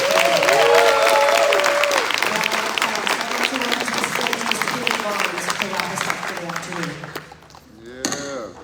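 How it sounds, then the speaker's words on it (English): Audience applause at a youth GameChangers final presentation in Valdosta, a steady dense clatter of many hands that fades after about seven seconds, with voices and cheers mixed in and a voice briefly at the end. "can I get one round of applause for all of our game changers?"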